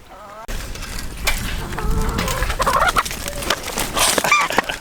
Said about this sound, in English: Watch out, goose attack.